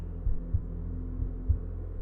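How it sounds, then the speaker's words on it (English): A pounding heartbeat thumps low and muffled in paired beats, repeating at a steady pace over a constant dull hum. "I could hear my heart pounding"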